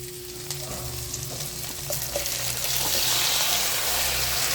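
Shrimp fry with onion for chop suey, a loud close sizzle that builds and grows brighter over several seconds, with a few faint clicks of stirring underneath and no talking.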